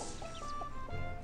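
Chickens clucking in the FarmVille 3 farming video game, a short burst of a few bright, close clucks and chirpy calls over a low background, with no talking.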